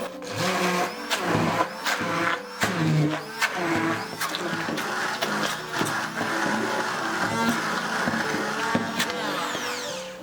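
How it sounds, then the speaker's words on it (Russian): A handheld immersion blender whirs steadily, its motor pitch shifting as it churns through a thick curd casserole batter with lemon, with clatter against the bowl throughout. "И все хорошо пробиваем погружным блендером."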